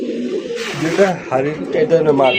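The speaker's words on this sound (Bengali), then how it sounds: "লাল কালারের এক জোড়া গররা কবুতর" Pair of red-coloured pigeons at a fancy pigeon market, giving soft cooing calls beneath steady nearby conversation between buyers and sellers.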